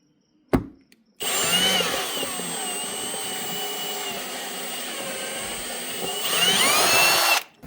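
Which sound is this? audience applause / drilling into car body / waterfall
drilling into car body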